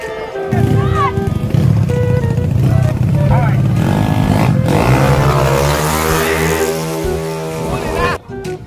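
A stock 59 motorcycle at a racing event revs steadily and loudly, its engine note climbing near the middle of the clip before cutting off at the end, with people talking over it.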